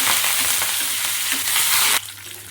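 Curry leaves hitting hot oil for a tempering for a sweet bottle gourd curry, a loud, close, dense sizzle that cuts down sharply near the end to a quieter fizz.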